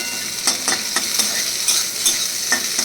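Crushed garlic frying with softened onions in a pan, with a close, steady sizzle broken by regular scraping strokes of a stirring spoon.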